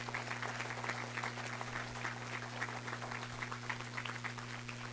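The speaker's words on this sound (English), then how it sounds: "Yeah, you can clap. You can clap." Faint, steady applause from a banquet dinner audience honoring a board chairman, heard at a distance over a constant electrical hum.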